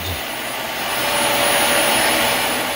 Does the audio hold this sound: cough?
no